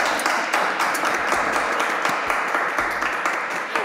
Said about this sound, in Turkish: İlk defa şarkı söylediğimde insanlar beni alkışlıyor.